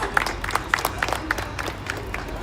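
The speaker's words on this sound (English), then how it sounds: "Can we give everyone here a round of applause?" A crowd claps at an outdoor Palestinian flag raising ceremony in Paterson, New Jersey, with scattered individual hand claps that stand out over a busy background murmur of voices.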